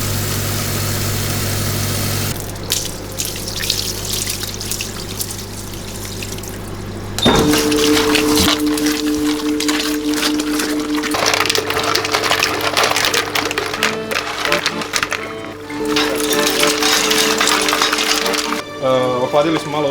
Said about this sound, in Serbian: Zbog obima posla, naš mikser mora uvijek biti pun.